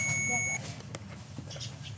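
A multimeter on continuity mode gives a steady high-pitched beep while its probe touches the negative terminal of a Honda Activa or Hero Maestro scooter battery, a short clear tone over a low background hum.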